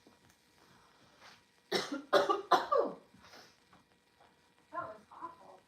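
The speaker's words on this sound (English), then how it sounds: "let me go get Chachi while I'm like coughing" A person coughs several times in a quick cluster, fairly close, followed by a couple of softer coughs amid quiet background.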